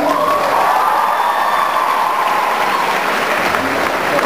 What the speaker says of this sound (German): So, mal einen kräftigen Applaus für unsere beiden Hübschen.